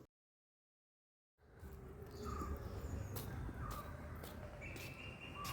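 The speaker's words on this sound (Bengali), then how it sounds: "শুধুমাত্র পাখির কিচিরমিচির আওয়াজ" After a moment of silence, birds call outdoors, harsh crow-like caws scattered over a steady open-air background.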